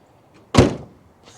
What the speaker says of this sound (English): let's see how hard this hood closes when I go to drop it